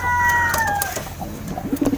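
Breeding pigeons in a loft, with a soft, low coo repeating several times near the end, following an earlier steadier tone and a faint background whistle.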